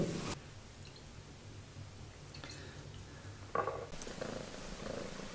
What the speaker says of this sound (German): Ein 6 Monate altes Kätzchen ohne Namen. Aber es mag Käse.